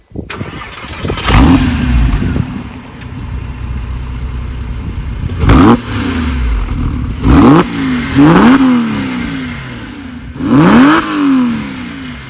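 A Porsche 996 Carrera 4S engine cranks and catches, idles with a deep rumble, then revs sharply several times, each blip rising and falling back, loud and close.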